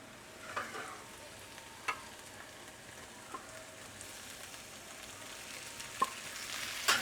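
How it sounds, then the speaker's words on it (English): Cooked gnocchi sizzle quietly in a pan with browned garlic, a faint steady frying hiss broken by occasional soft taps and clicks of a utensil. "Now that the garlic has browned, I am going to add in about 2 pounds of cooked gnocchi."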